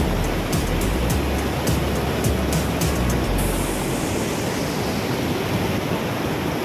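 Strong sea current and surf rush steadily at a shoreline sardine-catching spot, a loud, broad roar that fills the whole stretch with no talking.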